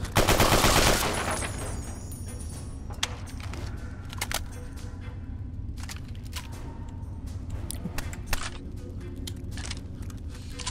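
A shotgun in the Fallout video game fires a loud blast at the start, followed by scattered clicks and metallic clatters as the weapon jams and is worked again, with distant gunfire cracks sprinkled through.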